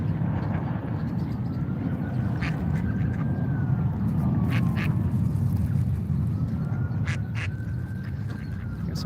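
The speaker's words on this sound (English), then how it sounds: "Got some ducks making noise." Ducks quack repeatedly in short bursts amid a steady low rumble of outdoor background noise at a Washington DC gathering, with a faint aircraft-like drone passing overhead.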